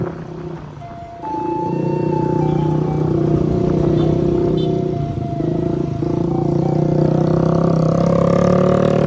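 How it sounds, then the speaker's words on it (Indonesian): Cars idle in a long queue at a fuel station in Batang Kapeh after a flood, with a steady engine rumble and drone running throughout, loud and close, plus occasional clatter and faint background sounds. "Ini mobil yang ngantri panjang."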